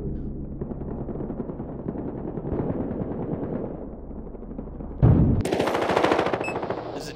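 Sustained automatic gunfire rattles through a Battlefield Hardline firefight, dense and continuous, with a sharper, louder burst of shots erupting near the end.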